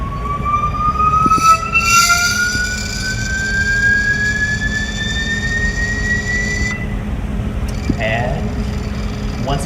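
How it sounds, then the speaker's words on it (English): A Fluke function generator produces a steady sine sweep, a thin pure tone gliding upward in pitch over several seconds, heard over a constant low background hum with a second fainter rising trace above it. "So we'll run a single sine sweep starting now."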